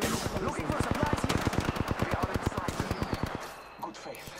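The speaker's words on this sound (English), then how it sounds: "I'm taking fire." Automatic gunfire rattles in a fast, even burst of around thirty rounds during video game combat, close and sharp, stopping abruptly near the end as a voice speaks.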